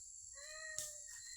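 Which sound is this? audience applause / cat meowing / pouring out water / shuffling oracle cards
cat meowing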